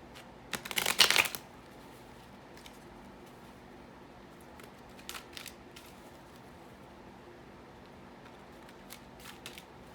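Tarot cards are shuffled once in a short, crisp riffle near the start, followed by faint handling clicks and rustles in an otherwise quiet room.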